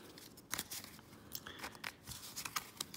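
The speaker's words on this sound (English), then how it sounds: "Shuffle the case deck and then flip this card." A deck of stiff, high-friction game cards for a Brook City case being shuffled, with a series of crisp riffling and snapping bursts at an uneven rhythm, close and alone.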